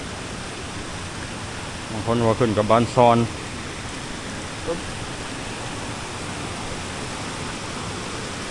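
Tad Hia Kham waterfall in the Lao forest of Mahaxay, a steady broadband roar of falling water running throughout, with someone speaking briefly over it near the start.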